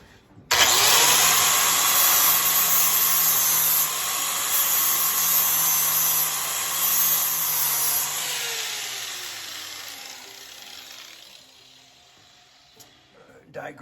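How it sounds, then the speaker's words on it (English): A die grinder spins up and runs steadily with a high whine, working on an Ericson-style hull patch, then winds down and fades near the end; the tool sounds close and loud throughout. "I'm gonna reach in here with a die grinder"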